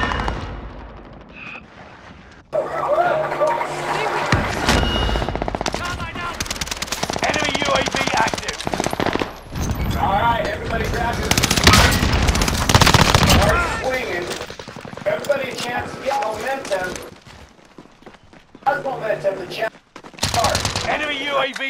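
Machine gun fire in a video game: dense, loud bursts of rapid automatic shots that start and stop over and over, with game sounds around them and brief pauses between volleys.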